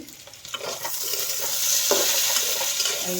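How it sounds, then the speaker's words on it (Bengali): Okra and potatoes fry in a pan, giving off a bright, steady sizzle that grows louder, with a few scraping stirs mixed in. "ভেন্ডি আলু ভাজা হচ্ছে"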